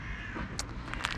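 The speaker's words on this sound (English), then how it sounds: "And a few crows." A few crows caw briefly at a distance outdoors, short harsh calls rising over steady background noise.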